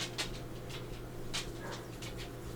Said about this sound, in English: It was Chappie's little worried whine